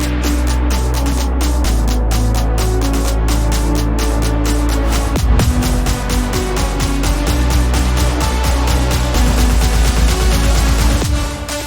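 A melodic bass house build-up made in Ableton plays with every part layered together: dense, loud synths and a pulsing low end that shift in texture about halfway through, then build steadily without any voices.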